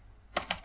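Several quick clicking keystrokes on a computer keyboard while coding in Python, close and distinct, following a brief near-silent pause.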